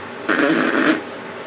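A person's voice imitates a fart, producing a single loud, buzzing raspberry that lasts under a second before fading back to quiet.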